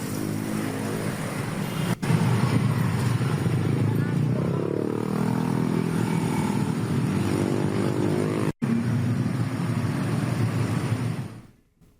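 Heavy traffic of holiday travellers' motorcycles crowds the road at Nagreg, a dense continuous roar of engines and passing vehicles, loud and close throughout, with a news reporter's voice speaking over it.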